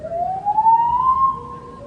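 An audience at an anime convention panel blowing ocarinas, sliding fingers off the holes so a sustained whistle-like tone glides steadily upward in pitch, loud and near, with no talking.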